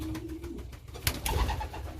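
Racing pigeons coo softly nearby in their loft, a low throaty burble repeating in a short rhythm, with faint fluttering and rustling in the background.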